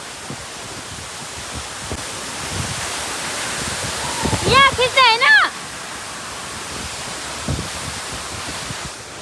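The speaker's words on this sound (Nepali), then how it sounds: "झर्नाको पानी यहाँसम्म आएको" Steady broadband rush of falling water from a waterfall, Lauke Waterfall, runs throughout, with voices shouting and talking briefly over it midway.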